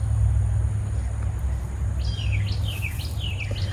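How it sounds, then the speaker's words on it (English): Birds sing outdoors in a flower garden in April, a series of bright whistled chirps beginning midway, heard over a steady low rumble. "Listen to the birds."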